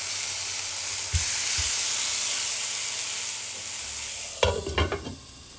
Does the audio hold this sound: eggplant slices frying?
yes